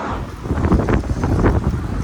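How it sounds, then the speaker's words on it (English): Gusty wind buffets a handheld microphone outdoors on a Bogota street, a steady broadband roar that swells and dips in a couple of strong surges. "Super windy."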